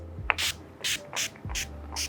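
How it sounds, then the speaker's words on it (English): Urban Decay All Nighter setting spray is misted onto a made-up face in several short, hissing bursts at a steady rhythm, close to the microphone, with faint handling clicks between sprays and no speech. "I'm going to set the makeup with some setting spray"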